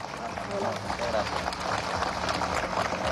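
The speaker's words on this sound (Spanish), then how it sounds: "con un fuerte aplauso recibamos al señor Claudio Fermín" A dense, steady wash of audience applause at a Venezuelan political event for Claudio Fermín and the Soluciones para Venezuela party, sustained throughout with voices mixed in.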